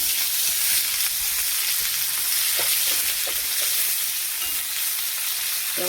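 Chopped onion fries in a pan, giving a steady, close hiss of sizzling oil that runs throughout, with a few faint stirring clicks and taps.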